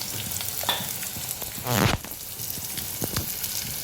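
Red chilli powder, turmeric and garam masala fry in a pan for a prawn, brinjal and mango dish, sizzling steadily under stirring scrapes, with one loud hissing gush midway.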